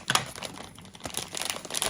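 A small plastic cosmetic bag holding a contour kit crinkles in short, close crackling bursts, brief and fairly quiet.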